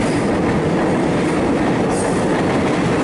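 A train rolls through a tunnel, with a loud, constant roar of wheels and rails that stays up close and fills the space, with no voices.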